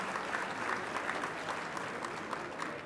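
Dinner audience of several hundred at a law school recognition dinner applauding, a steady dense wash of clapping sustained throughout at moderate distance.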